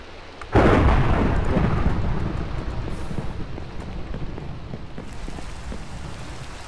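A sudden loud thunderclap in Minecraft breaks through steady rain, then rolls into a long, slowly fading rumble over the continuous downpour.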